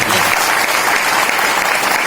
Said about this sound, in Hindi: एक तालियां होनी चाहिए